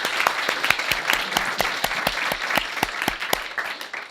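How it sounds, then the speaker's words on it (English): Audience in a philanthropy breakout session claps for a presenter: a short burst of moderately loud, sparse applause with distinct individual claps, no speech over it. "Let's clap first."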